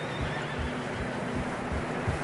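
A horse neighs faintly through steady wind-like noise in fresh snow in Red Dead Redemption 2, with soft low thuds that could be hoofbeats.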